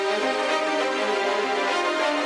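A high-pass filtered string section stem from a mix plays alone as a sustained, thin, bright chord with the low end removed, steady in level throughout.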